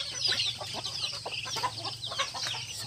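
Newly bought chickens cluck and chatter in soft, irregular bursts over a steady low hum, with a few higher squawks mixed in.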